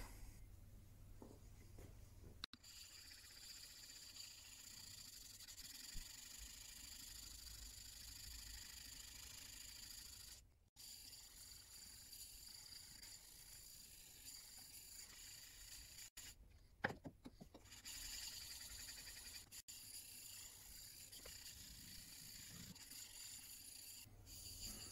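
A chisel is lapped back and forth on a 3000 grit sharpening stone, a quiet, steady scraping rub at close range with a few brief pauses and small knocks.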